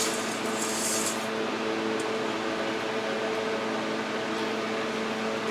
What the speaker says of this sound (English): It's nice and hot, it's boiling, it's ready for the pasta.